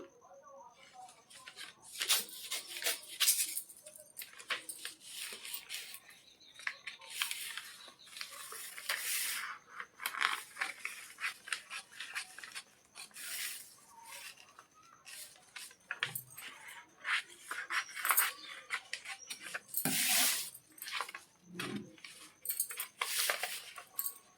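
Scissors cutting the back panel of a blouse from cloth, giving repeated crisp snipping and rustling at close range that comes in uneven bursts, with brief pauses between runs of cuts.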